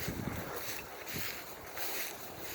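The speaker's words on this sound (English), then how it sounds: "This wind stinks." Gusty mountain wind blows around a trapper's cabin, buffeting the microphone with a continuous rough roar that swells and eases in waves, with no voices.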